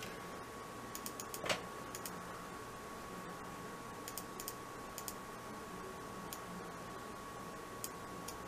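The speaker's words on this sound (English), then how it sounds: "Just trying to see if there's any double clicking or anything like that" Scattered sharp clicks from a PICTEK wired gaming mouse being tested for double-clicking, coming singly and in quick little pairs over a low steady hum, fairly quiet and close.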